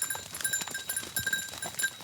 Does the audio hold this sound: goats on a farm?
yes